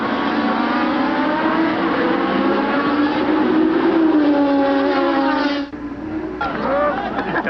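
Formula 1 race cars at the 1988 Canadian Grand Prix, a loud, steady engine drone with a rising and falling pitch as a car passes, cutting off briefly near the end before the roar resumes.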